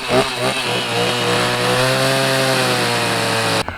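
A chainsaw roars loudly at close range, engine droning steadily as it cuts open a wooden crate, then cuts off abruptly at the end.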